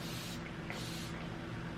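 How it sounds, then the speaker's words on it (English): Garnier rose water face spray hisses onto skin in a soft, fine mist. Two brief bursts come close together over a faint steady background, with no one talking. "I'm gonna take my rose water spray, the Garnier one, and just do a light"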